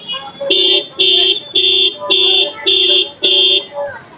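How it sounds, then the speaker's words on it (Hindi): A road vehicle horn blasts six times in a steady rhythm of loud, evenly spaced honks, each about half a second long, close and dominant in a street setting. "हॉर्न किधर है सर? नहीं, ये दबके कहाँ दबाते हैं?"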